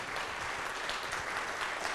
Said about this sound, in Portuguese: Vamos dar uma salva de palmas para ele, não?